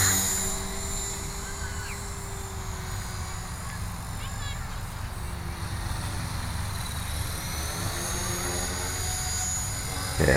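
A radio-controlled helicopter flies and autorotates, its steady rotor drone and whine continuous and fairly distant throughout, mixed with a faint low rumble of outdoor wind.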